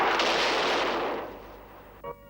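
A cannon fires once, a loud close blast that rolls into a long fading rumble before a brief faint tone at the end.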